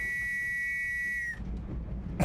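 A whistle in the video game The Last Express sounds one sustained, clear, shrill blast lasting over a second, then cuts off into low ambient rumble.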